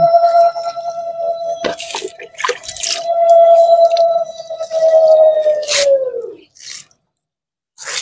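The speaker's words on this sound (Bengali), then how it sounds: "এখন এই গাছটাতে একটু আমি জল একবারে দিয়ে তারপর যাব।" Water is poured from a large bucket onto a plant, a resonant ringing tone holding steady under gurgling and splashing clicks, then sliding downward as the stream tapers off and leaves near silence.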